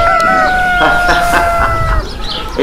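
Chickens on a farm cluck and crow up close, with a drawn-out crowing call over a run of short, choppy clucks.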